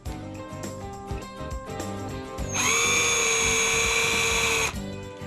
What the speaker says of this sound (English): we drill holes to mount the brackets